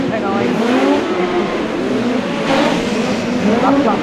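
Autograss race cars roar through a dirt-track race at Kings Lynn, a loud, continuous engine drone with shifting revs and overlapping cars, close and dense throughout.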